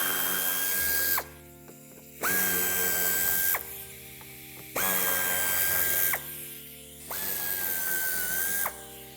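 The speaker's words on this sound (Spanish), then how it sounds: "quitaremos los 3 tornillos del interior del pase de ruedas y un último en la parte inferior, todos ellos de Torx 25" A ratchet wrench turning out Torx 25 screws from the wheel arch liner of an Audi Q-series SUV, heard as close, rapid clicking in several long runs separated by short pauses, with no talking.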